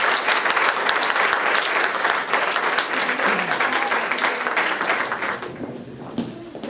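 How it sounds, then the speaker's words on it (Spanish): Wedding guests break into warm applause at a ceremony, a full burst of many hands clapping together that holds strong before thinning and fading toward the end. "Demos un aplauso."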